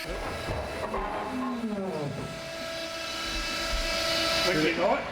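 Engine of a de Havilland Mosquito aircraft running with the throttle opening, a steady droning hum with rising harmonics that climbs in pitch and loudness toward the end, with voices talking over it.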